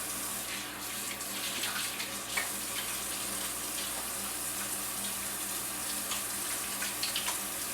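Hands being washed under a running tap, a steady broadband rush of water with small splashy variations as the hands move through the stream, continuous for several seconds with no talking.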